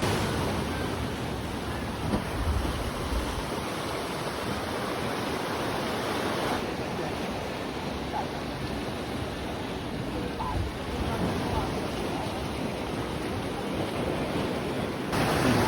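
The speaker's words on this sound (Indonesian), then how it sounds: "Ombaknya kencang kali kawan-kawan" Strong sea waves surge against a sea cliff in South Aceh, a steady, loud broadband wash of surf with wind noise and no clear separate breaks.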